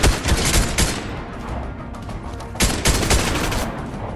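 Ranger assault rifle fire in Fortnite, loud close bursts of rapid gunshots at the start and again near the end, with a sustained volley in between and no talking.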